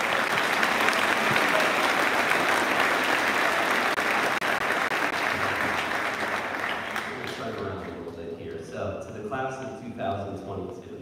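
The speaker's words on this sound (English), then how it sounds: "Can we give our teachers and staff a round of applause?" A crowd at a 2022 high school graduation ceremony breaks into broad, sustained applause that starts loud and slowly fades as a voice begins speaking over the tail.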